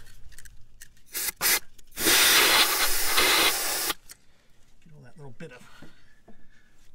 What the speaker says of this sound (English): I'm going to take my compressed air, this down there